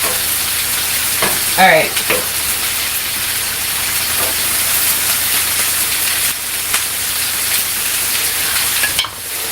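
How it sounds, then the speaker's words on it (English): Corn sizzles and fries on a hot griddle, a steady loud hiss with stirring and scraping as it is pushed around, and a brief spoken word near the start. "The corn trying to pop off the griddle"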